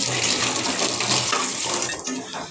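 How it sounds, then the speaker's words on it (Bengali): Water runs steadily from a tap as hands are washed, a close continuous splash with slight changes as the flow hits the hands. There is no speech. "আমি হাতটা ধুয়ে নিই"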